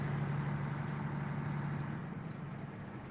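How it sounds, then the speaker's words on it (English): Convoy trucks rolling past on the road, a steady loud diesel engine drone with a faint high whine, fading slightly as they move by, with no talk. "the lead trucks are coming by right now"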